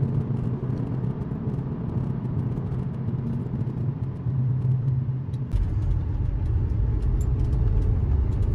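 A car rolling down into a basement parking garage, its engine a steady low rumble echoing in the enclosed space, growing heavier partway through with no talk.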